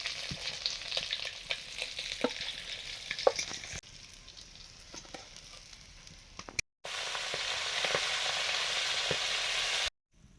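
Fish pieces fry in oil in a wok, a steady close crackling sizzle broken by occasional scrapes and clinks as they are lifted out, then a louder, even hiss after a brief break.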